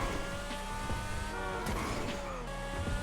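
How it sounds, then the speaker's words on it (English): A Tyrus supercar engine in the video game GTA Online revs and shifts through gears, its tone rising and dropping with a brief tire squeal, loud and close. "Listen to this car."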